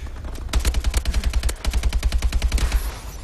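Rapid automatic gunfire from a first-person shooter game, Advanced Warfare Remake, in two quick bursts of steady, evenly spaced shots, loud and close with no talking over it.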